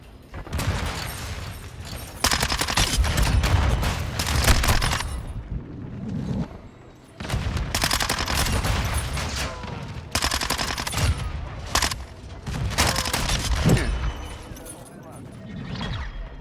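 Rapid bursts of pistol gunfire in Call of Duty: Modern Warfare 2 crack out repeatedly, loud and close, in clusters separated by brief pauses.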